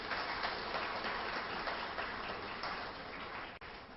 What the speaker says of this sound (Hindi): जोरदार तालियों से आपने स्वागत करना चाहिए